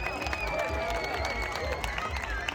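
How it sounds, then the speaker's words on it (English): Scattered clapping and crowd noise from an audience at a county fair pig race, with voices mixed in. "Give him a round of applause."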